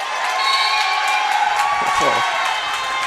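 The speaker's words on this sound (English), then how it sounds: "The crowd going nuts right here." A crowd cheering at a men's college basketball game, Bethany against Harding Charter Prep, with rising shouts and whoops through a gym, loud and sustained, and a voice speaking over it.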